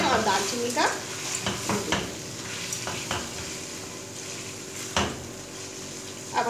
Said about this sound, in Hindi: चिकन, अदरक, लहसुन का पेस्ट, प्याज हमारा बहुत अच्छे से फ्राई हो चुका है